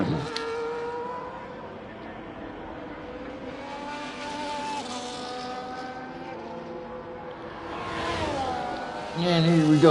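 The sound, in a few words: Ferrari racing car engine in a Formula 1 video game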